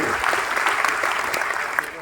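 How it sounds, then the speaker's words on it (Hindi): Audience applause at a Vestige team meeting, cheering a member named Dipanshu, with dense clapping throughout and possible voices mixed in. "जोरदार तालियां होनी चाहिए दीपांशु के लिए।"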